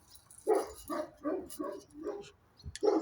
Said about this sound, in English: The dogs are barking again.